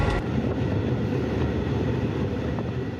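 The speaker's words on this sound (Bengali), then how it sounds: "ট্রায়াল রানের ট্রেন এখন গোপালগঞ্জের কাশিয়ানিতে" A trial-run train rumbles past close by on a new line at Kashiani, Gopalganj, Bangladesh, a steady heavy roar of wheels on track with faint rhythmic clatter, no voices.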